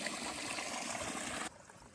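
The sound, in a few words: flowing stream water source on the Appalachian Trail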